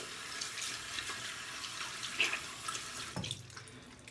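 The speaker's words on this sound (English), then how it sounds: "So now I'm gonna rinse my hands off." Hands being rinsed under a running tap, a steady hiss of water splashing into a sink that continues unbroken, then quietens and changes tone near the end as the flow is disturbed.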